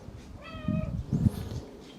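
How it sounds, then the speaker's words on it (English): A female cat lets out one drawn-out meow nearby, followed by a low rumbling murmur. "here's one of my cats, man."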